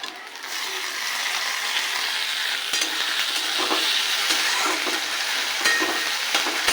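Chopped tomato frying in a pan gives a continuous close hiss, with intermittent scraping and clicking from a spatula stirring through it.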